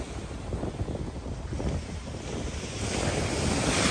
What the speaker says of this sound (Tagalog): ang lakas ng alon mga kababayan